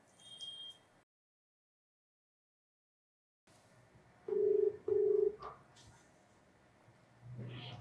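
A telephone call is dialed: two short, clear keypad tones beep in quick succession in a quiet room, following a stretch of silence, with faint background noise afterward.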